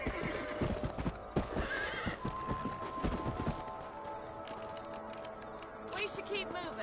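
Horses trot with a clattering clip-clop of hooves and an occasional whinny in Red Dead Redemption, the hoofbeats brisk and close under game music and a speaking voice.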